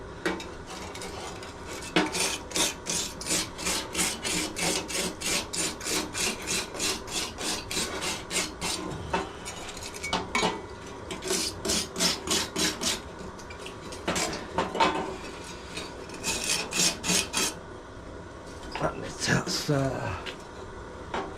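Repeated harsh scraping rasps against the metal of a cut-open two-stroke exhaust as carbon deposits are worked loose inside, close and loud in rhythmic bursts with short pauses, and someone talks at times.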